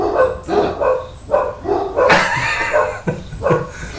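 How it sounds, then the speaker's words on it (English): Several dogs bark repeatedly in loud, close bursts at a home as someone arrives, the barks coming in quick, uneven volleys with brief gaps and no talking over them. "I can't stop my dogs going off."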